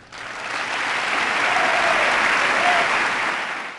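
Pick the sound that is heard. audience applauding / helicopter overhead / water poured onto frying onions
audience applauding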